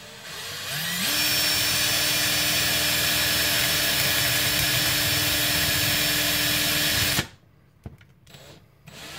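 A drill bit bores into a brass breech for a Nerf Retaliator, a loud steady high whine that starts abruptly, holds for about six seconds, then cuts off, leaving a few small knocks and handling noises.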